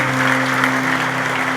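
Loud, dense clapping from a large church congregation during a Sunday communion service, continuous throughout, with a low steady hum beneath it.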